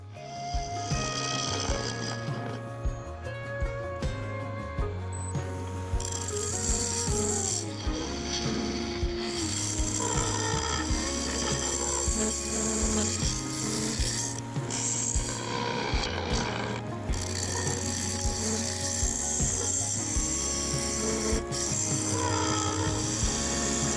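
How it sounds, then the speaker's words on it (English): A wood lathe turns a vase blank as a tool cuts away outer layers of timber from the midsection, a busy scraping and whirring with rhythmic mechanical knocks and shifting tonal hum, continuous and close. "I began cutting away outer layers of timber from the midsection, then blending it down into the base"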